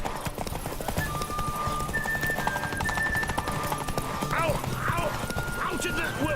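Horse hooves clip-clopping at a brisk, steady gait while riding in the video game Witcher 3, loud and close, with a horse whinny, background music and voices talking over it.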